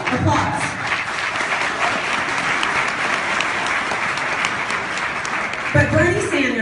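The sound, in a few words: audience applause during a speech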